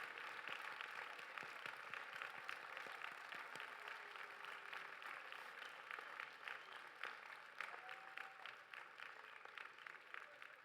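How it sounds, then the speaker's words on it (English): Faint, distant applause from a large audience at Northwestern University's 2022 commencement as graduates turn to honour their parents, a continuous crackle of many hands clapping. "give them the applause they so richly deserve"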